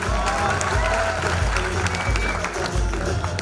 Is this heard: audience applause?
yes